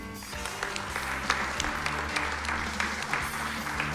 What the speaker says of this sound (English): Yes, you can give a round of applause.